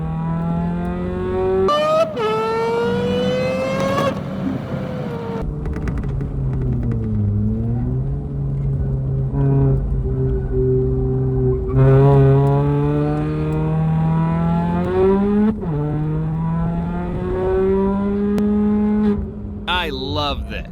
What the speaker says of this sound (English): Brakes was faded and I used heavy gear to slow down the car.